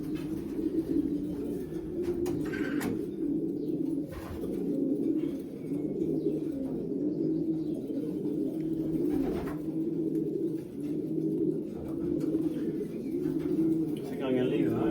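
Old racing pigeons cooing together in a loft while being basketed for a race, a steady low murmur of overlapping coos with occasional clatter and rustle nearby.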